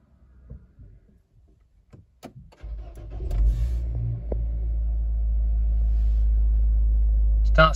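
A Nissan Juke starts after a few quiet clicks and handling noises, the engine catching with a short crank and settling into a steady, deep idle rumble close by.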